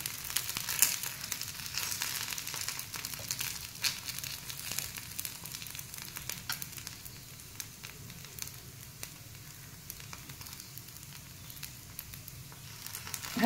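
Neer dosa cooking in oil on a tawa gives a steady, soft sizzle with light crackles, close up and fairly quiet, continuing without pause and with no talking.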